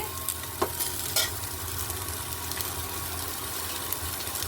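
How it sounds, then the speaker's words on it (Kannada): Onions sizzle steadily in a hot pan, with a few scraping stirs of a spatula cutting through the constant close frying hiss. "ಈಗ ಈರುಳ್ಳಿ ಫ್ರೈ ಆಗಿದೆ"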